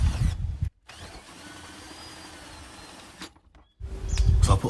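A power drill fitted with a 19mm extended shank whirs steadily while winding caravan levelers, running continuously for a few seconds between louder bursts of handling noise at the start and end.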